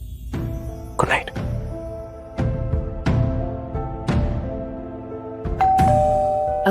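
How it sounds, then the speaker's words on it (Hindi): A doorbell chimes at the front door of a home in the morning, a series of ringing ding-dong tones spread across several seconds, with music or background sound underneath. "अगली सुबह घर की डोरबेल बजी।"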